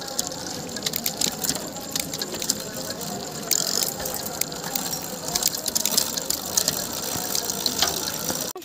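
Bicycle gears click and ratchet steadily as the front derailleur shifts down, a close, continuous mechanical clicking with no talking over it.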